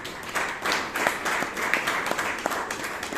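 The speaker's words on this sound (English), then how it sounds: "give a big round of applause to our Toastmasters" A small audience at a Toastmasters meeting in Bangalore claps, individual hand claps standing out sharply within a moderate, fairly close round of applause.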